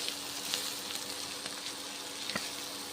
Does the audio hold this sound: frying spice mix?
yes